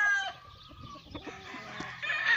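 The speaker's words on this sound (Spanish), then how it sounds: "Es un gallón, amigazo, la verdad." A rooster at a gamecock farm crows and clucks close by, a short strained crow followed by a few low clucks, with no talking.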